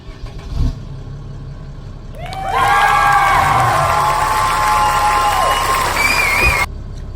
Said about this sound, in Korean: 한 방에 시동 터지는 거 보셨죠?